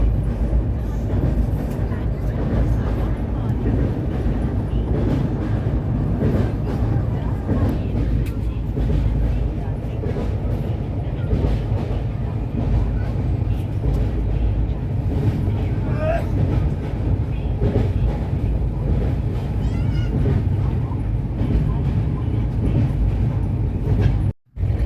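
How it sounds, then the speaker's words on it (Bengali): A Kolkata Metro train running at speed makes a steady, loud rumble with a constant roar throughout. The sound drops off abruptly at the very end. "আর ট্রেনটাও খুব স্পিডে চলছে"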